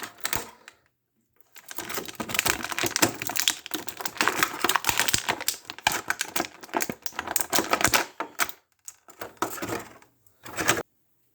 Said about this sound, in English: I'll take off this plastic tray. I'll take out her tools.